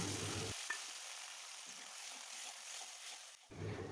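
Spice paste of cardamom, cinnamon and cumin sizzles steadily in hot oil in a pan, a close, continuous hiss and crackle with a faint clink near the start.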